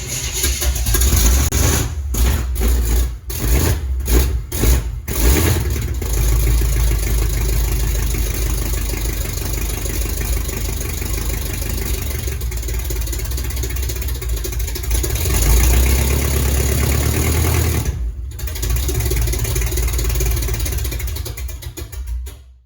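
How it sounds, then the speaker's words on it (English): Chevy K5/K10 off-road truck engine, hard to start and unable to idle, runs loud and close at wide open throttle, a sustained rough roar with a few surging dips early on and little letup. "Throttle wide open again."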